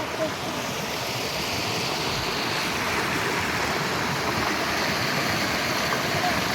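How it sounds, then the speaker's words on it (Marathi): The Naranji, a village river, carries clear flowing water in a steady, even rush that fills the whole stretch without a break. "पाण्याचा निखळ असा फ्लो"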